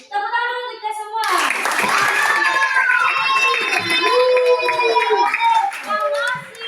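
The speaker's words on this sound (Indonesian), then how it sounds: "tepuk tangan untuk kita semua" Schoolchildren in a fifth-grade classroom clap together after a lesson, a burst of hand claps with children's excited voices and chatter over them, close and lively.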